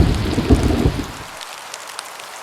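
A rain and thunder effect: a deep, loud thunder rumble over steady rain fades after about a second, leaving softer rain with a few scattered drops.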